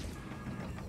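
SRV handbrake engaging in Elite Dangerous, a short faint mechanical ratcheting creak heard alone.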